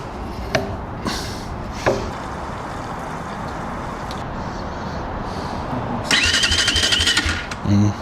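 KOVI Lite 300 R motorcycle engine, freshly assembled out of the box, cranking with a few sharp clicks and then catching into a loud, even idle, with a rougher rev burst near the end.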